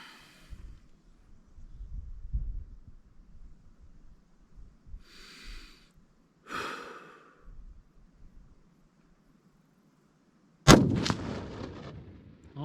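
A single sharp, loud rifle shot from a Ruger American .308 during zeroing at 100 yards, following quiet breathing and a couple of soft snorts, with a decaying boom after the blast.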